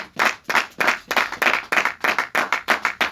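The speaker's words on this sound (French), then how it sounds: "Applaudissez pour elle" Rhythmic group clapping from a church congregation, about a dozen bursts at an even beat, close and steady, with a soft murmur of voices underneath.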